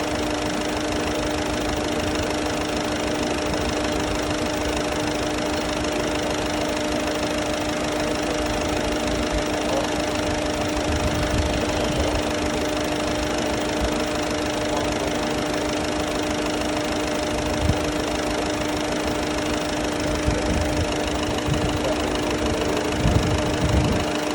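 A Ford car's engine runs steadily through a carbon cleaning treatment, a constant mid-pitched drone with faint knocking and a few small clicks, no voices.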